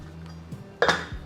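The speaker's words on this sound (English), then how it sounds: "Lid on" A metal lid clanks down onto a soup pot of butternut squash and lentils, one sharp clink with a brief rattle as it settles, close and alone over a faint low hum.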